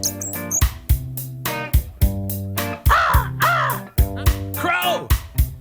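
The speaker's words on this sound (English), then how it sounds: "Crow." A crow caws repeatedly in a forest, loud and close, a series of harsh, evenly spaced calls with a couple of shriller squawks in between.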